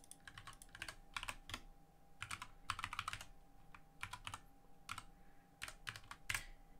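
Typing on a computer keyboard, soft clustered keystrokes in irregular rapid bursts with short pauses, quiet and close, with no voices.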